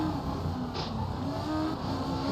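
Steady engine drone of a rally car in the Assetto Corsa racing game, an asphalt-built car driven on a dirt stage, a continuous moderate hum with slight pitch shifts and no one speaking.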